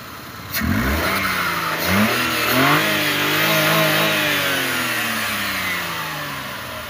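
A Maruti Suzuki Wagon R engine with an overheating problem starts and revs up sharply, then drops back to a steady idle that hums on nearby.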